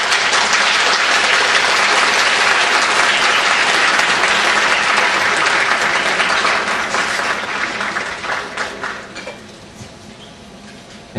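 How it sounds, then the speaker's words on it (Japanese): Audience applause at a lecture hall talk, dense steady clapping that holds strong for several seconds, then thins out and fades to scattered claps near the end. "拍手お願いします。"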